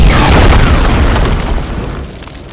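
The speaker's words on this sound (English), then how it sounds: "Dinobot Island explodes a lot." A loud, booming cartoon explosion of an island in Transformers Animated, a big rumbling blast that fades out over a couple of seconds.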